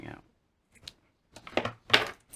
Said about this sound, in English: So I'll just cut these off with a little bit sticking